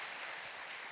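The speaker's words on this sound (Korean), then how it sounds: "박수로 우리 감사하는 시간을 갖도록 하겠습니다" A brief burst of congregation applause during a Sunday church service, faint and steady clapping lasting about a second.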